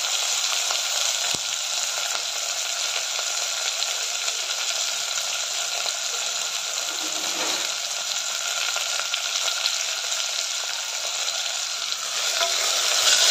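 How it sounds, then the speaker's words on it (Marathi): Onion, garlic cloves, potato, carrot, tomato and green chillies sautéing in a pan with cumin, a steady broadband sizzle holding even throughout, close and loud, with faint stirring. "सर्व भाज्या घालून चांगले परतून घ्यायचं आहे."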